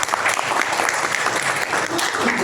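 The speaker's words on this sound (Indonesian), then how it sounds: "Tepuk tangan tuh." An indoor audience at a content-creation workshop for market traders in Jember claps steadily and loudly throughout, a dense, sustained round of applause heard up close.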